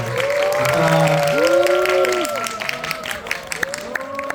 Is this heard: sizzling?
no